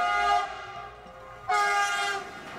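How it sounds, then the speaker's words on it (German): A Gotthard railway locomotive whistle sounds from the Gotthard Panorama Express in Switzerland, two loud blasts, the second cutting in sharply after a brief dip, with no talk over them. "Und der Lokführer pieft"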